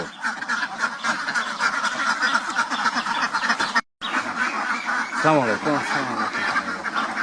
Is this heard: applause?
no